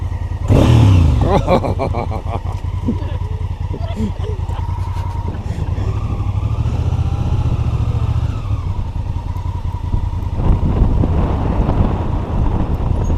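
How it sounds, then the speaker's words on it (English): A 2016 Honda Africa Twin's engine is blipped on a touring day on New Zealand's South Island. The loud, close revs climb sharply, then settle into a steady rumble mixed with wind noise. "Give the motor a rev just for the sake of it."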